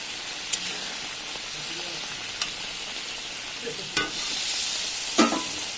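Fried puti fish sizzle in a pan of curry, a steady hiss and crackle with a few sharp spoon clinks as the pot is stirred.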